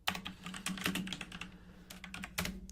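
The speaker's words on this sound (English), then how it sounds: "So right here, you type in WooCommerce" Quick, light clicking of keys on a computer keyboard, close and steady with small uneven pauses, no talking.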